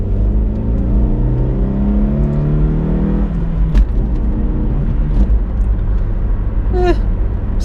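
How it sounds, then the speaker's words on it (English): A Honda CR-Z GT sports car engine revs briefly, rising and falling, under a steady low idle rumble. "let's give it a little rev here"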